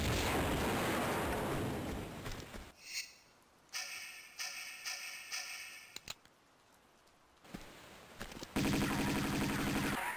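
Gunshots fired at a web in the video game Tomb Raider, in the Temple of Xian level. A burst of several sharp, loud reports rings out against quieter stretches of game ambience, with no voices.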